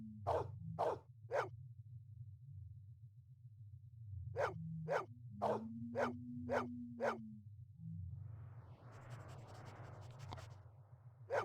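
Dog barks in a video game, sounding in two bursts of three and five sharp yaps over a steady low hum, with a brief tonal whine between, followed by a stretch of hissing noise.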